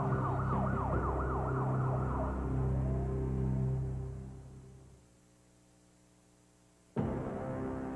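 A wailing ambulance siren sweeps up and down over low rumbling traffic, then fades away, followed by a moment of quiet and a sudden burst of noise.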